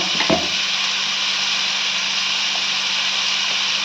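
Tomatoes sautéing with bitter gourd in a pan give a steady, close hiss of frying that runs unbroken throughout, with a brief knock near the start.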